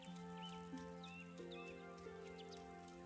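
Rain falling in the video game Wylde Flowers, a soft steady patter of raindrops against the ground beneath sustained musical tones, with no one talking.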